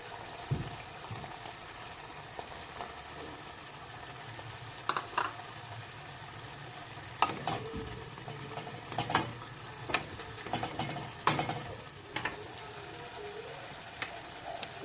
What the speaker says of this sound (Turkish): Biraz sotelenecek ıspanaklarımız.